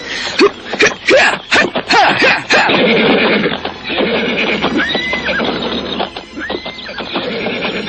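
In a radio drama, a horse whinnies twice, close and clear, over steady clip-clopping hooves and background ambience, with some rustling at the start.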